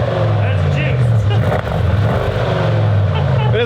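Close, loud drone of a Bentley GT3 race car with an aftermarket exhaust, a refined engine held at a fairly even pitch with slight rises and dips rather than sharp revs, and someone talking over it.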